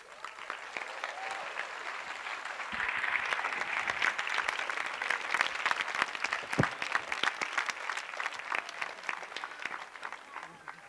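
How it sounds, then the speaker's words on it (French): A conference audience applauds warmly, a dense sustained wash of many hands clapping together that keeps going at an even level. "un moment d'échange avec André Stern, que je vous remercie d'applaudir chaleureusement"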